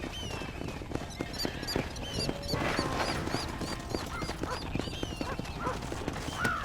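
Horse hooves clip-clop steadily in a Red Dead Redemption ride, the rhythmic clatter close and continuous, with a whinny rising above the rest and speech passing in the background.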